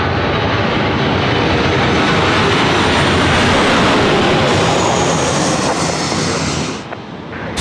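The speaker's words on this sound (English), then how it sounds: "Coming in over the top of our heads in just a moment, you're going to hear the noise from Velocity 996 service in from Brisbane." An airliner arriving at Sydney Airport from Brisbane passes low overhead in a loud, broadband jet roar that stays near and steady for the whole clip, then eases slightly at the very end.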